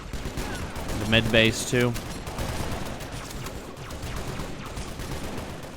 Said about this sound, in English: All that plasma fire is just insane.